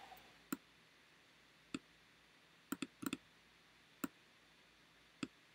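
A computer mouse clicks while working in Adobe Illustrator, with eight or so crisp, close clicks spaced irregularly, some in quick pairs, over near silence.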